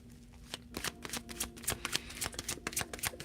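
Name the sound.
tarot cards being shuffled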